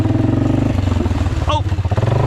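A Polaris four-wheeler ATV engine drones loudly and steadily as the machine drives through muddy ruts, with a brief rattling clatter and a shift in the engine note partway through.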